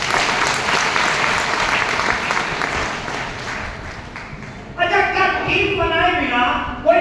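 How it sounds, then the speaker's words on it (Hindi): Audience clapping at a business seminar in Dehradun, a dense sustained round of applause from a sizeable crowd, with a voice speaking over the final seconds as the clapping continues. "एक बार अपने लिए ताली होगा"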